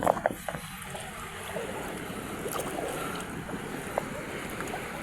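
Outdoor sea ambience with wind and water lapping around a boat, a few knocks near the start, steady and fairly quiet.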